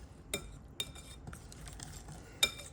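Food stirred in a pan while cooking fried pork steak: a metal utensil scrapes and clinks against the pan a few times, fairly quiet and spaced apart, with no talking.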